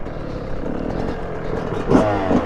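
Dirt bike engines from Yamaha YZ motorcycles, a 2020 model alongside a 2006 model, rumble steadily with a mid-pitched drone, swelling louder in brief revs near the end.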